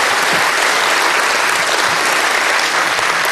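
Steady, loud applause from a banquet audience at the Tennessee Aviation Hall of Fame 2009 dinner, thanking Certified Executive Chef Dave Coburn for the evening meal; dense, continuous clapping with no voices on top.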